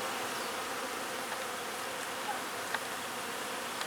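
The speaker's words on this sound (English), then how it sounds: "There is a huge buzzing noise going on right here, and this plant is covered with bees." A dense, steady hum of many bees buzzing around a flowering bush, continuous and close, with a few individual insects whirring past louder now and then and no talking.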